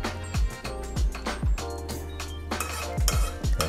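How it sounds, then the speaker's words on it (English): A metal spoon scrapes and knocks around the sides of a pot of cheesy grits on a stovetop, giving quick repeated clinks and scrapes with a low hum underneath. "Gonna scrape our sides down a little bit."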